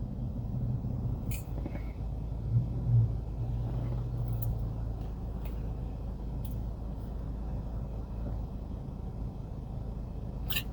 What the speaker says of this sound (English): So yeah, as usual, traffic over here.